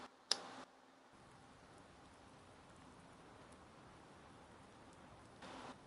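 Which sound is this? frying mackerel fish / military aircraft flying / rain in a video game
rain in a video game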